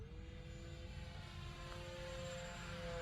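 An E-flite Turbo Timber RC plane with a damaged propeller flies at full throttle at night in Florida, its electric motor giving a steady, sustained whine with a slightly rising pitch, heard from a distance.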